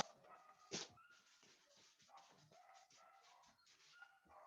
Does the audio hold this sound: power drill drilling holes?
no